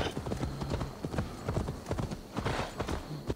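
Horse hooves clip-clop steadily in a video game, a quick rhythmic run of close, distinct hoof hits with a brief whinny-like tone, over light game background sound.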